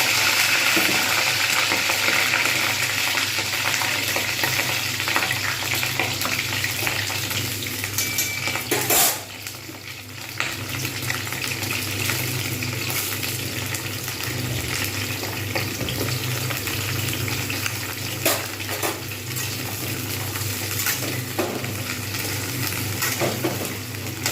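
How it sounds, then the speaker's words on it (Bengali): Cauliflower fries in hot oil in a pan over lowered heat: a loud, dense, continuous sizzle up close, with stirring and the odd clink of a utensil, dipping briefly before carrying on steadily. "এই তেলের মধ্যে আবার ফুলকপি ভাজবো আঁচটা একটু কমিয়ে দেবো কারণ আর জোরে চারিদিকে ছিটকে যাবে তেল"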